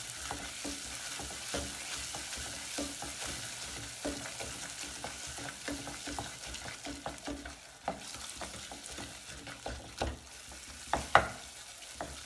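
Butter melts in a pan for an apple tart while a utensil stirs it slowly. Soft sizzling and frying run underneath, with repeated scraping strokes that turn a little louder and sharper near the end. No one speaks.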